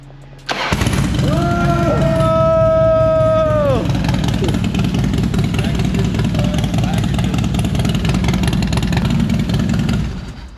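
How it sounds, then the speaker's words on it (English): A Harley Dyna motorcycle cranks over and fires up, then settles into a loud, steady, lumpy idle close by, with a brief whine during starting and voices heard faintly over the engine. "I'll see his bike start for the first time in I don't know how many weeks"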